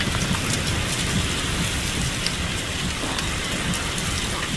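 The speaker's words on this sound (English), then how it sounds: "There's a hailstone right there. And there's a few more coming down." Small pea-sized hail and heavy rain pelt grass during a severe thunderstorm in Haverhill, Massachusetts, a dense, steady hiss of impacts with faint sharper ticks, continuous and close, without voices.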